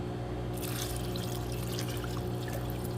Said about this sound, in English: I'm going to throw some water in there.